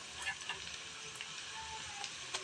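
Ginger-garlic paste sizzles faintly in a pan of well-fried onions while a prawn malai curry is being made, a steady soft hiss with small crackles and no talk over it.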